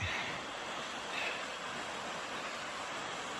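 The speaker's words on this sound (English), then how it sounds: "That waterfall." A mountain waterfall on a hiking trail in Oregon's Wallowa Mountains gives a steady, broad rushing roar, constant and moderately distant, with no voices.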